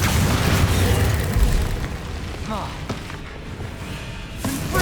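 Confringo blasting spells explode in the Hogwarts Legacy video game: loud booming bursts over a dense, continuous roar of battle noise that swells and fades across the few seconds.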